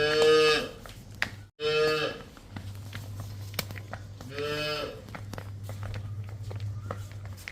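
Jersey cows for sale on a farm moo loudly nearby, two long deep calls and a third shorter one, between stretches of low rumbling hum and shuffling footsteps.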